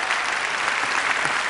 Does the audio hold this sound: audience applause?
yes